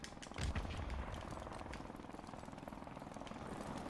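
Helicopter in the video game Call of Duty: Modern Warfare Remastered, a steady, faint rotor whir and rumble with soft rhythmic thudding, heard alone throughout.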